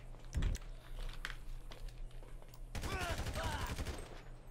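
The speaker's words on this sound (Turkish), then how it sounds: "Dur silahla vuralım o zaman." Gunfire in the GTA 5 video game: a sharp shot or two early, then a dense rapid burst of crackling shots near the end over a steady game background, with no talking.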